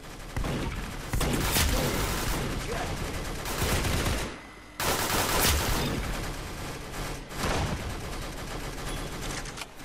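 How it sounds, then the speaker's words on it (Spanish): Rapid minigun fire in the Roblox shooter Arsenal roars in long, dense bursts broken by short pauses, loud and continuous like a fusillade. "Está mi compañero con la minigun."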